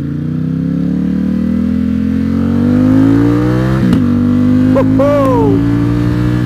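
A Ducati XDiavel motorcycle engine revs loudly and steadily, its exhaust note rising in pitch, close by and continuous.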